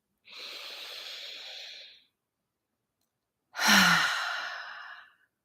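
Two long, deep breaths taken during a guided EFT tapping session: a steady airy inhale, a pause of silence, then a louder, fuller exhale that trails off slowly. No talking.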